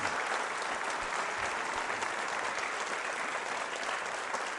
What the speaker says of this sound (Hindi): तो तालियां जोरों से बजाइए अपने लिए आप।